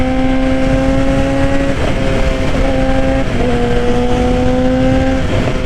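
Suzuki GSX-R 750 motorcycle engine accelerating through rising, steady revs with a couple of gear shifts, loud and close throughout with no talking.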